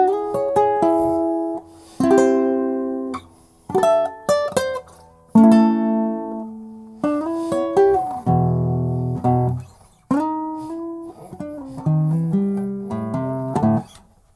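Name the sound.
fingerstyle classical guitar playing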